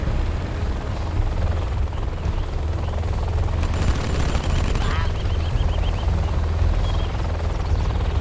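Helicopter flyby in the Command & Conquer Generals Zero Hour game, a steady loud rotor drone with bursts of gunfire and explosions in the mix, continuous battle noise throughout.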